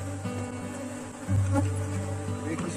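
A honeybee swarm drones steadily while a hive is split. The dense, close buzzing holds throughout, with a brief louder surge of wing noise midway.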